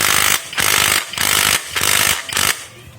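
An impact wrench fires in four loud, rattling bursts, each about half a second long, separated by brief pauses, on its high power setting while assembling the CVT of a Honda Vario CBS motorbike.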